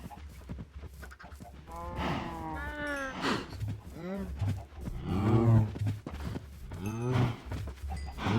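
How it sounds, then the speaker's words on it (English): Several cows moo repeatedly in a farming video game, drawn-out lowing calls overlapping one after another at close range, with faint background noise between them. "It's a lot of cows."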